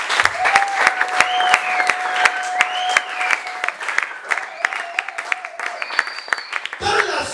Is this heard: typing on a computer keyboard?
no